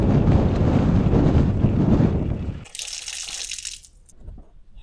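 Tap water runs hard and splashes into a basin at a prayer room washing area, loud and close for a few seconds, then cuts to a quieter trickle and light splashing as hands and face are rinsed.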